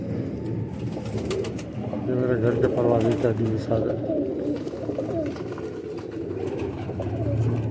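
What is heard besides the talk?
pigeons cooing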